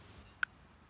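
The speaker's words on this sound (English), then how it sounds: "The Shield, there's the trigger pull," A single sharp trigger-break click from a Smith & Wesson M&P Shield pistol, dry-fired close up against a quiet background.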